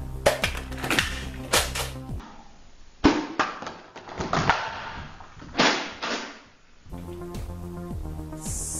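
Nerf Rival Kronos blaster firing foam darts, some Adventure Force rounds, at a target stack: several sharp, close shots with snappy mechanical thumps, spaced a second or two apart over a steady low background.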